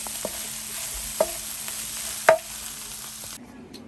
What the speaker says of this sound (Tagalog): pinapainit ko yung niluto kong ampalaya na prepare ko kagabi